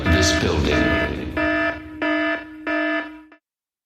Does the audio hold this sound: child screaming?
no